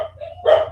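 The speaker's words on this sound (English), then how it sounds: "the boys are home, so the dogs are going crazy" Dogs barking excitedly at home, a quick close bark followed by a louder sharp one, with nothing else behind them.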